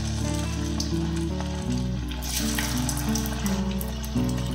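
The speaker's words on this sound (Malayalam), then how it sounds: "ഇനി നമുക്കിത് ഫ്രൈ ചെയ്തെടുക്കണം." Small anchovies (netholi) sizzle steadily in hot oil while being fried for a kozhuva 65 dish, a loud continuous crackle with a low hum underneath.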